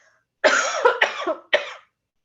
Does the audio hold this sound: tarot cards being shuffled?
no